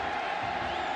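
Football stadium crowd cheering and roaring during a Missouri versus Colorado college game in 2002, a steady, dense wash of noise filling the whole moment, with no distinct voices standing out.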